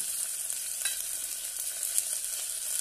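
Green chillies fry in hot oil for a rajma pulao, a steady bright sizzle that holds at moderate loudness throughout with no talking.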